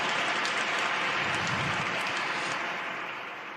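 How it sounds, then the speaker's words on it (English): A large audience at a public discussion between two state governors breaks into loud, dense applause, a continuous roar of many hands clapping that begins to taper off toward the end. "That question deserves applause"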